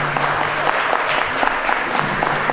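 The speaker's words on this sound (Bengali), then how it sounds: "হাততালিটা আরো জোরে শুনতে চাই প্লিজ।" Dense, steady applause from a large audience at a centenary tribute concert, many hands clapping continuously at an even loudness throughout.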